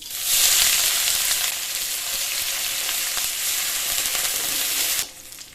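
Chopped onion drops into hot mustard oil in a wok and sizzles loudly and close, a dense steady hiss that quiets abruptly near the end.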